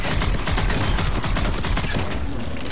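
Pistol fire in Mass Effect 3 sits within a loud, continuous barrage of rapid gunshots and combat noise, with bursts overlapping so densely that individual shots blur together.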